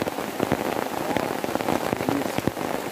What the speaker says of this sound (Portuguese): Acampamento sem chuva não é acampamento.